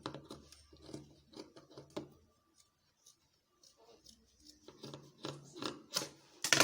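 Scissors snip through shirt fabric while shaping a neckline, a series of short crisp cuts that pause midway and then resume more loudly, close by with no talking.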